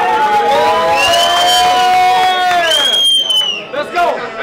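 A battle rap crowd cheers and hollers loudly at close range, with whoops, whistles and shouting voices overlapping, then the noise breaks up into scattered yells.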